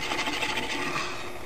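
A spatula scrapes an egg across a pan in a steady, continuous raspy rub, close and fairly loud, with no talking.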